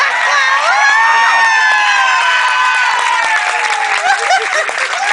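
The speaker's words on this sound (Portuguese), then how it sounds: "O que eu já comentei a respeito do ato de aplaudir?" A large festival crowd at a Rio de Janeiro New Year's show applauds and cheers continuously, with shouts and whistles over dense, loud clapping throughout.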